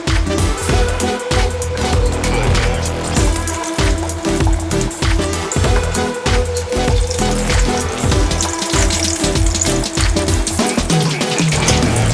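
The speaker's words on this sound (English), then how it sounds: "I'm gonna start deep frying the mandazi like this." Vigorous, continuous sizzling and bubbling of mandazi dough frying in hot oil, crackling steadily at close range.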